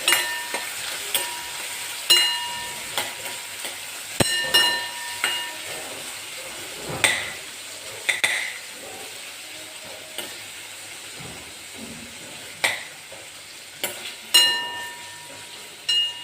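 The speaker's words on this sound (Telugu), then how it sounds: "ఒక నిమిషం పాటు ఫ్రై చేసుకోవాలండి." Chopped onion and tomato fry in a pan for chutney, a steady sizzle and hiss broken by regular sharp clinks and scrapes of a stirring spoon against the pan, close and without voices.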